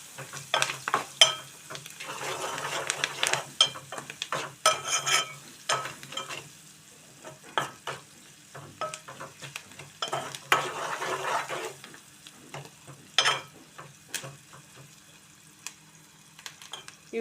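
Sliced onions with turmeric are stirred in a frying pan for a bitter gourd curry: repeated spoon scrapes and clatters come in irregular bursts over a soft sizzle, with quiet gaps between strokes.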